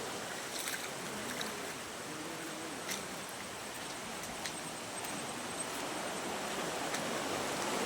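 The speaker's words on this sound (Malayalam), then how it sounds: "ഇവിടെ നിന്നാണ് വെള്ളം അങ്ങോട്ട് പോകുന്നത്" Steady broadband rush of fast-flowing rain-swollen floodwater near a bridge in Kerala, loud and continuous throughout, like a swollen stream surging nearby, with no voices.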